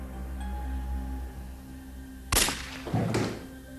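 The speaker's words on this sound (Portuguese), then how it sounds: "Um tiro é ouvido na casa de Forster." Two sharp, loud bangs about half a second apart break a quiet background hum, each followed by a short ringing decay.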